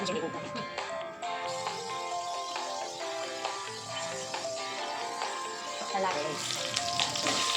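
Loud, steady sizzling of tempering spices frying in hot oil for upma, crackling and spitting continuously with occasional stirring, close up.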